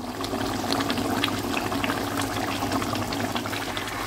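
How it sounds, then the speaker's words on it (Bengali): A pan of pumpkin curry with a little water simmers on the stove, giving a steady, close bubbling hiss that carries on without a break and without talk. "এখন এটাকে ফুটতে দেব 5 মিনিট।"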